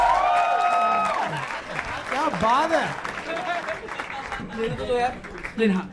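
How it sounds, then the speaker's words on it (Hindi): Audience applause on a comedy talent show after a rap performance, loud steady clapping filling the whole stretch while a host talks excitedly over it. "जोरदार तालियां फॉर हिम यार"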